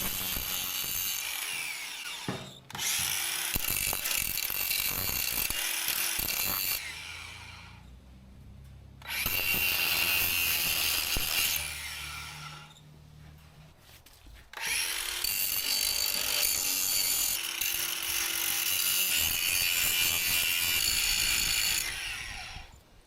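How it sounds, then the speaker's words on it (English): An angle grinder works down welded hooks on a steel machine bucket outdoors: three long, loud, harsh grinding bursts separated by short pauses, with no talking. "Let's get this thing grinded down, shall we?"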